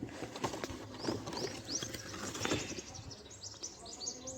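Pigeons flapping their wings nearby, a run of quick fluttering wingbeats mixed with soft chirps and rustling, moderately loud and without speech.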